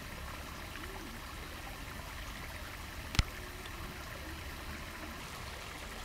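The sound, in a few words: water running from a leaking water main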